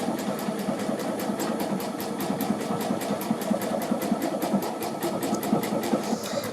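A sewing machine runs steadily, stitching a decorative curly Q stitch on petal pieces; a fast, even mechanical whir with regular ticking needle strokes throughout, close and fairly loud, no talking.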